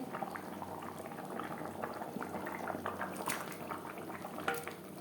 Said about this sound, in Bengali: গ্রেভির সাথে আলু বেশ ভালো করে সেদ্ধ হয়ে গেছে